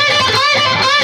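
A pentatonic riff rings out on a distorted electric guitar, a loud, dense, sustained tone that holds steady with only slight shifts in pitch across the short phrase.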